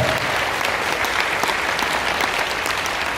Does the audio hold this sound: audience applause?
yes